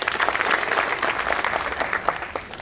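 A crowd claps steadily at a technical training institute graduation ceremony in Nairobi, with dense, close, continuous applause throughout that fades slightly near the end.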